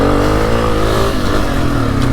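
A Honda CRF250F fuel-injected trail bike engine drones steadily and loud, holding a continuous mid-pitched roar as it picks up speed over rough trail ground.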